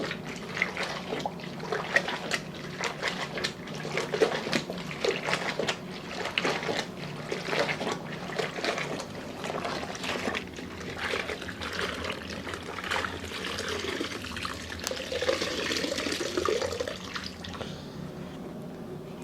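Water splashes and trickles across a floor being rinsed after cleaning with Pinalen Floral Delight, a soft continuous wash with scattered drips and sloshing, fairly faint and close, swelling a little toward the end.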